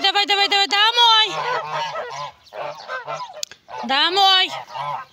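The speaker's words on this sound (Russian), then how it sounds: "Это вот шадринский гусак." Several Shadrinsk geese honk loudly and repeatedly nearby, harsh nasal calls in bursts, while a person speaks briefly among them.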